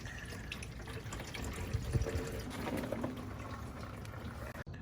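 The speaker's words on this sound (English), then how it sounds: "Step 1, drain all the water out of the block." Water drains out of a car engine block through the drain bolt hole on an all-wheel-drive Honda Civic, a faint, continuous splashing trickle with a few brief louder spatters near the middle.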